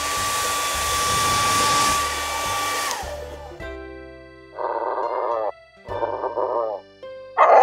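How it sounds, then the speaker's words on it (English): A cartoon hair dryer for an alpaca character blows in a loud, steady whoosh with a whining tone, then cuts off and gives way to short playful bursts of sound effects. "So glad you found your hairdryer, Pacca Alpaca."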